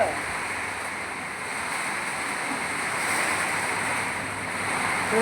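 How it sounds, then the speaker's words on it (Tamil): Heavy rain pouring down during a storm, heard as a dense, continuous broadband rush with gusty swells and no clear individual drops, steady and enveloping throughout. "ஏ சரியான மழை"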